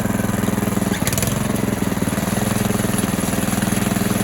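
A DTZ 470B walk-behind tractor engine runs in third gear, a loud, close, rapidly pulsing mechanical chug that holds an even rhythm throughout.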